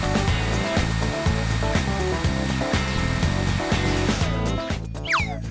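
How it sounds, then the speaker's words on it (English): A hair dryer roars steadily at close range as it dries a paper doll's hair, its loud whirring drone running continuously with rhythmic pulsing before it briefly drops near the end. "Let's dry the hair properly with this."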